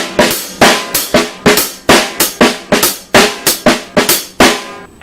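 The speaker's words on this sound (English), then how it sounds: "You've basically got those two ghost notes right after the hi-hat," A drum kit plays a techno pattern in a steady, close, loud rhythm of hi-hat hits, quick soft snare ghost notes and a hard snare strike, repeating cleanly with no talking.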